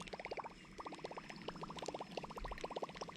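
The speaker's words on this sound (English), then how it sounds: "You can pop the lure just kind of like that, still makes that good noise" Rapid bursts of bubbly, gurgling pops as a Googan Mini Revolver topwater fishing lure is popped across water, in quick clusters repeating every half second or so at a moderate distance with no talking.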